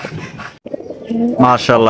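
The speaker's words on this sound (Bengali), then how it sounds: "দেখেন আরো কবুতর কিভাবে ডাকতেছে" Large Gopalganj pigeons at a breeding farm coo in a close, full-bodied run of deep throaty notes, swelling near the end, with a short silent break partway through and farm background underneath.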